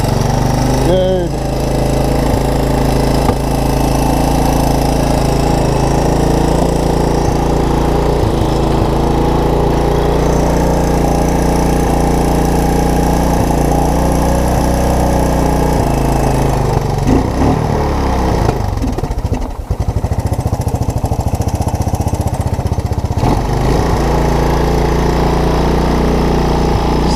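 Engine of a Honda ATC200ES three-wheeler, waterlogged with no spark and fitted with a cheap Chinese carburetor, running steadily after a cold start; a loud continuous motor drone holds for nearly the whole stretch, with brief dips and shifts in pitch near the end.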